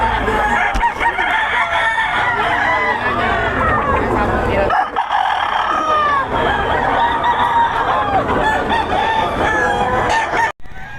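Chickens and roosters brought to a Pampanga market for sale cluck and crow loudly and continuously, many birds close together, with people talking among them.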